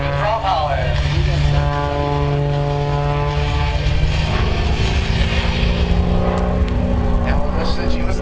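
Aerobatic propeller plane flying knife-edge and upright flat spin manoeuvres at the Geneseo air show, a loud, steady engine drone with shifting pitch throughout, heavy and close.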